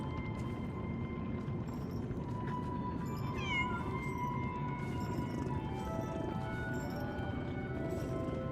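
A small kitten meows a few times, faint thin cries over a steady, loud background hum, with a light bell collar jingle possible; no one talks.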